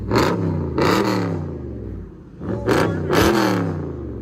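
Straight-piped true dual exhaust on a 2012 Chrysler 300 SRT8 with the 6.4L HEMI, revving hard in four loud bursts, each rising then falling back to a deep rumbling idle, close and without speech.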